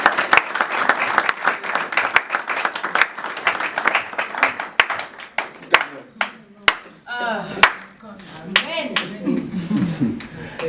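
A church congregation claps rhythmically and cheers in praise of Jesus, sharp rapid handclaps that thin out into scattered claps mixed with excited voices and shouts.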